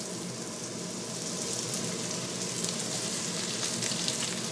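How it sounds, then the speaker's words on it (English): Red onion, bean sprouts, pak choy and crushed garlic sizzle steadily in a hot wok for soba noodles, a continuous loud frying hiss with no talking. "We're going to cook the vegetables first in a hot wok, toss the noodles through it, add the dressing."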